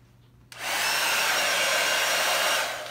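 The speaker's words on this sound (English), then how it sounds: "Now, you take your blow dryer." A blow dryer set on low is switched on and run over a fresh first coat of resin on artwork to clear bubbles, giving a steady, loud, close airy whoosh that starts abruptly after a brief quiet lead-in.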